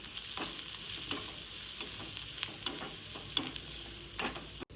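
Turmeric and chili powder being sautéed in a pan while preparing kuda flower bhaji, a steady close sizzle with a series of sharp spoon scrapes and taps spaced about every second; no voices.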